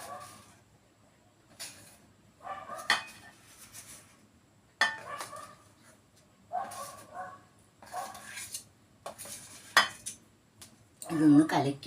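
A spoon stirs achappam batter in a bowl, giving repeated scraping, clinking bursts of metal on the vessel separated by short pauses, with a dog barking faintly in the background.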